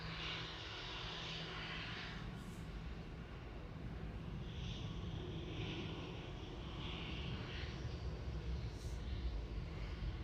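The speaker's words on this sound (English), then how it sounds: "Aer Lingus 206 from Dublin. It's EIXLW coming in and A321" An Aer Lingus Airbus A321neo XLR arriving from Dublin at Manchester Airport makes a faint, distant, steady engine hum with soft hissy swells.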